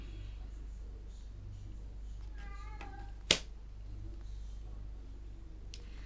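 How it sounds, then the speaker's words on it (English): A small kitten gives a couple of soft, thin meows, followed by a sharp tap; quiet room with a low hum and no clear talking. "that's my kitten, Belle."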